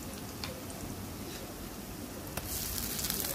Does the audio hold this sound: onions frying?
yes